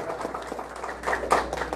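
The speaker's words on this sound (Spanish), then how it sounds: "Nuevamente los aplausos para los chuchucos" Brief burst of applause from a crowd at a mass wedding ceremony held for a provincial anniversary, with scattered clapping swelling toward the end.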